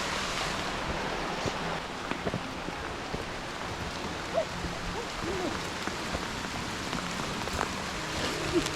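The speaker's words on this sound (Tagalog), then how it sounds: "Yan, lumakas na yung ulan, guys." Heavy rain pours steadily over a hike across Pamutan Grassland, a dense, unbroken wash of hiss with a few faint bumps and no voices.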